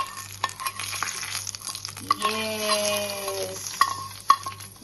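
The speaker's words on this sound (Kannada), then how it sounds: "ಈಗ ಚೀ ಅಂತೇಳಿ ನಮ್ಮ ತಂಬುಳಿಗೆ ಹಾಕುವ" Hot tempering of curry leaves and dried red chillies in oil, poured into a hibiscus petal tambuli, gives a sharp sizzle that hisses and fades over a few seconds, with light stirring clinks and a brief spoken word.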